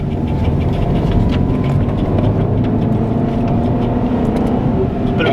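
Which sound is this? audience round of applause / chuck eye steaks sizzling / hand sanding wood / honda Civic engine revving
honda Civic engine revving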